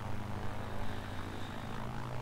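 Propeller airplane engine in the video game Battlefield 1943, a steady droning hum that holds at an even, fairly loud level throughout with no talk over it.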